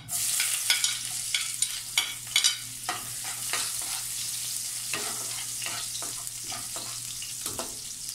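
Garlic frying in hot cooking oil in a pan, a loud, steady close sizzle with intermittent clatter of stirring, and no speech.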